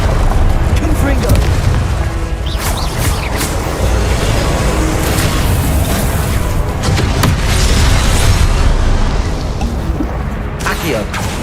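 Confringo blasting spell explosions in Hogwarts Legacy, a dense run of loud booming blasts and crashes that keep coming across the whole stretch, with game noise beneath and faint talk woven through.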